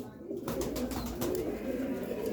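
Pigeons coo softly and continuously over a dense low murmur of a flock, steady and close, with no speech, in a loft during a deworming session where medicine is mixed into water and grain.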